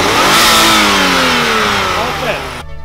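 A supercharged BMW engine with low boost pressure revs hard at full throttle, loud and close, its pitch climbing in strained sweeps before cutting off abruptly near the end.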